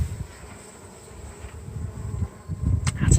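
Honey bees buzzing inside an opened hive box during a spring hive check, a low, irregular droning hum with shifting swells that grows louder toward the end, heard close up with no talking.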